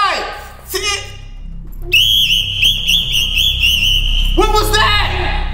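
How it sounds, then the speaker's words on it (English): A coach blows a sharp, warbling whistle blast to drive a school push-up drill, loud and close, with voices briefly before and after it. "Drop down and give me 10 on my whistle."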